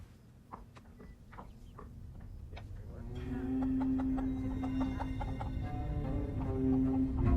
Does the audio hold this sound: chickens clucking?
yes